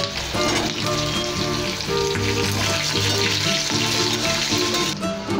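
Potatoes dropped into hot oil for a bitter gourd jhal chochori, a steady loud sizzle and bubbling frying with no talk.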